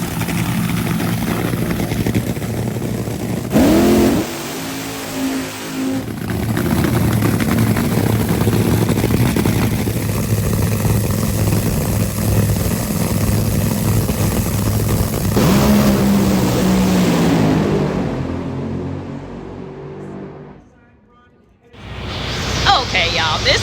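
A drag race car at an NHRA event in Norwalk roars as it launches and accelerates down the strip, a loud sustained engine blast that drops away near the end before noise returns, with speech over it.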